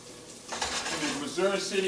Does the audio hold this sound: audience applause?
no